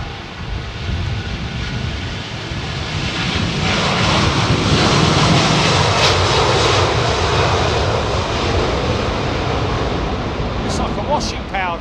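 Jet airliner at Heathrow Airport roaring past, a loud broad engine rumble that swells in the middle and stays strong throughout, with a person talking over it.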